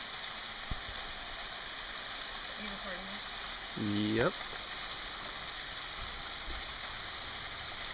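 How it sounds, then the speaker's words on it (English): Waterfall beside the Road to Hana on Maui, a steady broadband rush of falling water running throughout, with people talking briefly over it. "Waterfall number 1."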